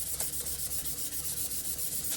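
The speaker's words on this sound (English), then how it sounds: "come and get a cup and start sanding it" Hand-sanding a plastic Dollar Tree cup with a black rubber band around it, a steady back-and-forth scratchy rubbing in even rapid strokes, close and continuous with no talking.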